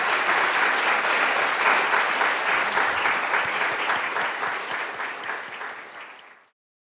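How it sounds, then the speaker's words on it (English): Audience at a university graduation reading applauding, a loud, dense clatter of many hands that holds steady, then thins and fades out abruptly at the end. "Can we have another applause for all of the people we've heard today?"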